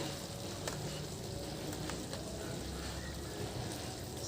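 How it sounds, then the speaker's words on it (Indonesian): Zuppa soup with cheese being stirred in a pot on the stove, a steady soft bubbling and scraping texture with faint clicks of the spoon, close and continuous with no talking. "ini aku aduk-aduk"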